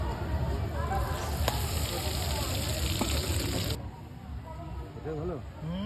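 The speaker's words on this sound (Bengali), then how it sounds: "তারপর সেটাকে সর্ষের তেলে ডিপ ফ্রাই করা হলো" A battered spiral potato deep-frying in mustard oil at a food stall, giving a steady, dense sizzle and crackle that softens partway through, with a voice talking over the frying.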